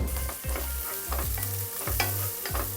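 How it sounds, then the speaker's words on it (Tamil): Onions fry in oil in a pan, a dense, loud sizzle with a rhythmic series of scraping stirs, about one every half second, close up and with no talking. "ஸோ வந்து கொஞ்சமாக ஆயில் போட்டுட்டு அண்ட் அனியன்ஸ் ஆட் பண்ணிக்கலாம்."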